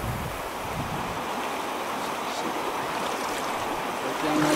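Creek water flows and rushes steadily at a fishing spot where fish are being released, a broad continuous wash close to the microphone with some wind buffeting, and no talk.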